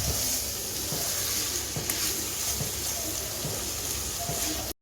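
Soft crackling sizzle of bottle gourd peel and potatoes frying in a pan over medium gas heat, with occasional scraping stirs and no voices.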